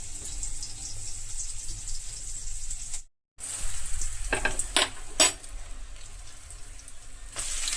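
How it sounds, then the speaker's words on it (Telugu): Malabar spinach leaves fry on high heat in a pan with a seed tempering, making a loud continuous sizzle broken by a brief gap and a few sharp stirring scrapes. "పోపు బాగా వేగిపోయింది. ఈ టైంలో మనం ఆకు వేసుకుందాం."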